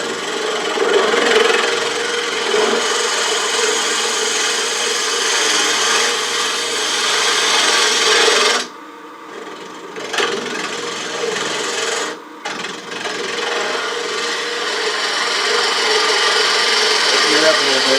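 A wood-turning tool cuts into a spinning wooden clamshell box blank near a drilled hole, giving a close, continuous raspy scraping with two brief breaks partway through, and no voices.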